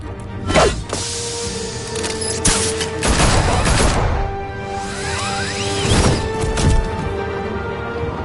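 Gunfire erupts in a Batman video game, a series of sharp shots and bursts with crashes and whooshes of combat over several seconds, loud and close.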